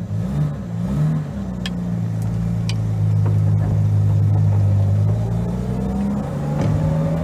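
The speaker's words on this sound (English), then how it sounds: "Lovely whine of the transmission." Transmission whine from a Jaguar E-Type on the move, a steady droning engine and drivetrain note with a tone that rises and falls a little under road noise, heard from inside the car.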